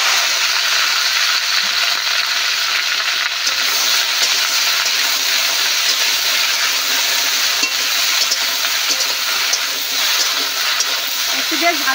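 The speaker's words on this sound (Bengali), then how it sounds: "তেল গরম হয়ে গেছে, ভেন্ডিগুলো বেশ ভালো করে ভেজে নেব।" Okra (ladies finger) fries in hot oil in a village-style kitchen, giving a loud, steady, hissing sizzle that runs unbroken from start to finish.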